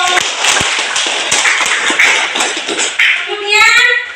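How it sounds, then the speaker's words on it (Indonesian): Students in a classroom clap for all the groups, a scattered, uneven patter of hands with some sharp individual claps, while children's voices and a brief tonal sound rise near the end. "Tepuk tangan untuk semua kelompok."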